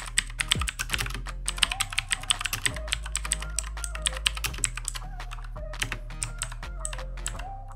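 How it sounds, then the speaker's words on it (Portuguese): Keys on an Alfawise V2 mechanical keyboard clatter in quick, irregular bursts of close, crisp clicks that run steadily with no talking. "adoro o som das teclas mecânicas"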